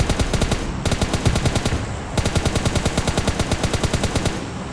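Rapid bursts of automatic gunfire in PUBG Mobile Lite rattle continuously, with a brief pause between volleys, loud and close without any voices.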